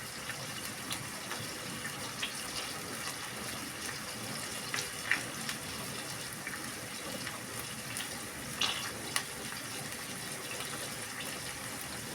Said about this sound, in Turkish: Şu anda bulaşık makinesi çalışıyor.